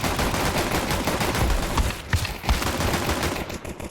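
Rapid rifle fire in Counter-Strike 2 rattles in dense, loud bursts throughout, with a few sharper cracks standing out and the shooting thinning slightly at the end.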